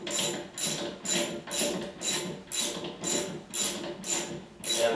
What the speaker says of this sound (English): we just run it down and seat the Smart Stud by hand